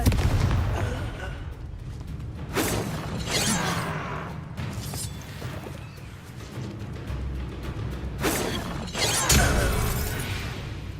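Confringo blasting spells fired in Hogwarts Legacy land as a few sharp, crackling explosive bursts, two close together early and two more near the end, over a steady rumbling game backdrop.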